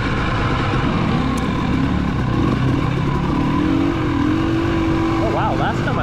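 Motorcycles are ridden on a dusty trail during a rally, with a steady engine drone and gear-shifting pitch changes under wind rush and speech.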